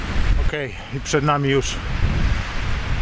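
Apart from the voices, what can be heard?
strong wind while cycling up a mountain pass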